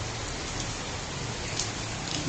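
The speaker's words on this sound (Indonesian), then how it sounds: "Hujan guys ya, hujan." Rain pours steadily in Kertosono, a dense, even hiss of drops striking surfaces, continuous and close with no pauses.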